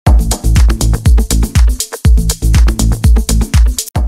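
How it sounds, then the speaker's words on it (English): Groovy progressive house drum and percussion loop: loud kicks with busy hats and percussive hits in a hooky syncopated rhythm, dense and close, with no voices. "The drums and percussion are very groovy, very hooky, and they sound like this."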